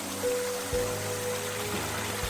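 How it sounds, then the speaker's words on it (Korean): A small waterfall in a narrow mountain stream, steady rushing and splashing water, close and continuous, with faint low thumps. "작은 폭포를 영상에 한번 담아봅니다"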